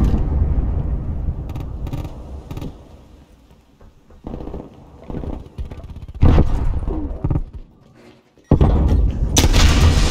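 Heavy booms and bursts of gunfire from a cruise missile strike in Call of Duty Black Ops Cold War multiplayer, Hardpoint mode on the Hijacked map, arrive in loud, uneven blasts with quieter rumbling gaps between them.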